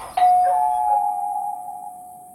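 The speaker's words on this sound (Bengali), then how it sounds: "calling bell chapel" A doorbell rings once at night, giving a single clear electronic tone that sustains and slowly fades.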